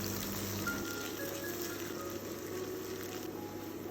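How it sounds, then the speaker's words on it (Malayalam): Ginger and garlic sautéing in a pan over a medium flame, giving a steady, continuous close sizzle that holds evenly throughout with no voices. "അതുവരെ നമ്മളൊരു മീഡിയം ഫ്ലെയിമിലിട്ട് ഇങ്ങനെ വഴറ്റിക്കൊണ്ടിരിക്കണം കേട്ടോ"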